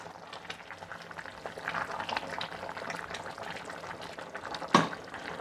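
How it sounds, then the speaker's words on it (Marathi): Chicken pulao with rice bubbles at a full boil in an open pressure cooker. The simmer is soft and continuous, with one sharp clink close to the pot near the end. "छान उकळी आलेली"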